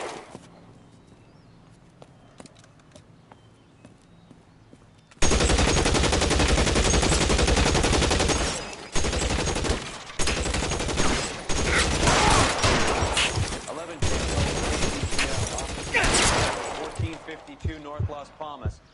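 Gunfire in the video game L.A. Noire: after about five seconds of near quiet, a loud, dense burst of rapid shots erupts and keeps going in ragged volleys until the end.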